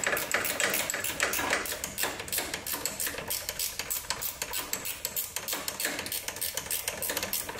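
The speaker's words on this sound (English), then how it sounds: "Let's see if a ratchet wrench will fit in there." Ratchet wrench working a half-inch bolt on a Husqvarna riding mower frame near the transmission, a steady run of quick, close metallic clicks repeating rapidly throughout.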